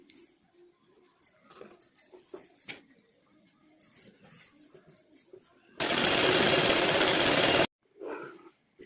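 A sewing machine stitching a chudidar top sleeve makes a loud, continuous whirring run of about two seconds, preceded and followed by quieter handling clicks and rustles, with a voice speaking softly in between.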